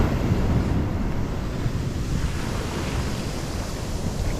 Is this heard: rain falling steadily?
no